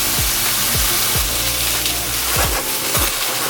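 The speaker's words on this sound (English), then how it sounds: "Asparagus tips are steaming." Asparagus tips sizzle and steam in a hot pan with a steady hiss, broken by several low thumps and scrapes as they are stirred, close and fairly loud with no talk.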